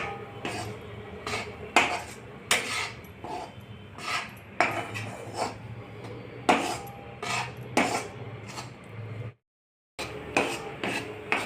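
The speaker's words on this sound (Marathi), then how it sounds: "असं सोनेरी कलर येईपर्यंत बेसन भाजून घेणे." Gram flour roasts in a pan while a utensil scrapes and clinks against the metal in a steady, repeated stirring rhythm, close up, with a brief silent gap near the end.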